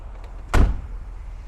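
A door of a 2015 Mercedes-Benz G550 Designo 4Matic shuts with one solid, heavy thud, close and loud, over faint outdoor background.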